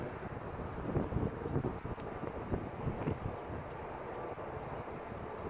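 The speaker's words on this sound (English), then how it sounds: "It's windy up here." Steady wind on a bridge buffets the microphone with a continuous low roar, gusting slightly louder at moments, with no voices.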